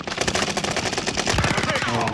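Rapid automatic gunfire from Call of Duty: Warzone (Vanguard Resurgence) rattles continuously and loudly through the whole moment, dense bursts layered close together with faint voices mixed underneath.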